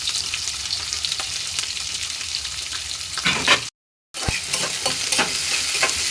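Chopped onions and green chillies fry in a pan for chicken curry, a loud continuous sizzle with stirring scrapes, broken by a short moment of silence before the frying resumes.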